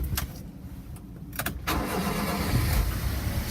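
A Honda Acty JDM kei mini truck is started: the starter cranks with a few uneven bursts, then the small engine catches and settles into a steady, fairly quiet idle.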